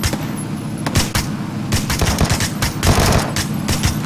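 Dense bursts of rapid automatic gunfire crackle loudly in PUBG Battlegrounds, with overlapping shots and booming impacts across a chaotic firefight, no talking.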